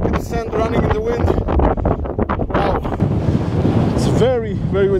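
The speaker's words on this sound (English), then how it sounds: "Very, very windy." Strong gusts on Dune 45 in Namibia buffet the microphone in a steady low roar, blowing sand, with voices talking over the wind throughout.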